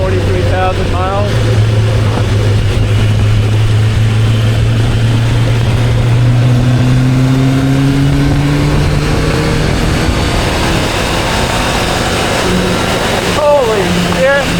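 Vintage motorcycle with about 43,000 miles, ridden as a commuter or sport tourer. The engine drones steadily, then its pitch climbs as it revs and accelerates, under heavy wind roar with a voice faintly present.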